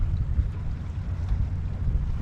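A small 2-stroke outboard engine on a fishing boat runs steadily at idle, a continuous low throbbing drone close by, mixed with wind buffeting the microphone.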